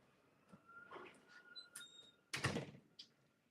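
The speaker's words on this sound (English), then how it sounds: "I'm going to close the door" A door being closed indoors, a sliding rumble and then a solid thunk near the end, close and fairly loud.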